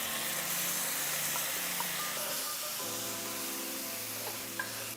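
Roasted tomato sauce being stirred into chili in a pot, a soft steady simmering sizzle with faint scraping of a spoon, quiet and close.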